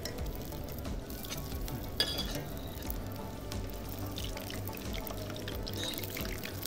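Continuous sizzling and crackling of dim sum frying in a pan with sesame oil, moderately loud and steady, with a brief clink partway through and no talking.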